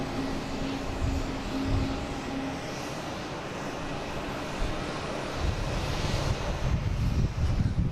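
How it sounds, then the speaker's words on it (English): A Cessna Citation Sovereign business jet coming in to Boston Logan produces a continuous moderate engine drone with some wind buffeting and a faint tonal hum, growing slightly louder toward the end, no speech. "We have it's like a Cessna Citation Sovereign coming in from Teterboro"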